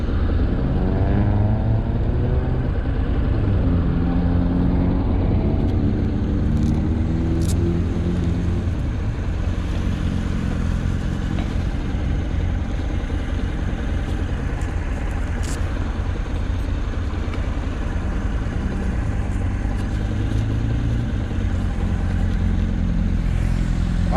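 Honda motorcycle engine droning steadily while riding, loud and continuous with a constant roar and rising pitch changes early on, wind noise throughout and no talk.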